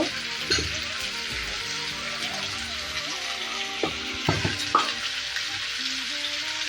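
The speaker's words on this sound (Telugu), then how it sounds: "ఇలా బాగా ఫ్రై చేసుకోవాలి" Thinly sliced potatoes and onions with salt and turmeric fry in a pan, giving a continuous soft sizzle broken by occasional spatula scrapes and taps, quiet and close.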